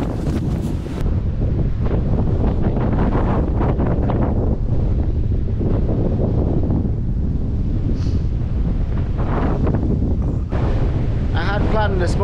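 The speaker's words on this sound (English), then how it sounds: "It is seriously windy up here." Strong wind buffeting a foam-covered GoPro while cycling in stormy weather, a loud continuous roaring rumble that dominates throughout, with brief gusty flutters and faint background sounds.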